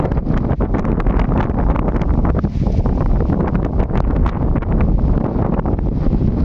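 Strong wind at Matheran buffets steadily and loudly throughout, a constant roaring rush with gusty fluctuations and no voices.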